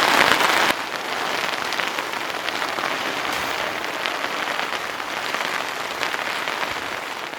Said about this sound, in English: it's actually hailing at the moment